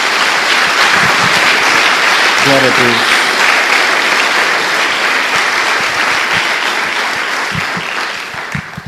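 A church congregation claps loudly and continuously during a worship service, the applause holding steady before easing off toward the end, while a voice briefly calls out over it.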